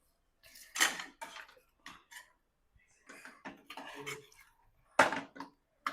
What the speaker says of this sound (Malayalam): ഇനി നമുക്ക് വറുത്ത് കോരിയ ചിക്കൻ ലോലിപോപ്പ് ഇതിലേക്ക് ആഡ് ചെയ്ത് കൊടുക്കാം